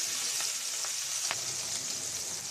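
Shing fish coated in turmeric and salt fry in a pan, a continuous bright sizzle held close and even, broken by a few soft stirring taps.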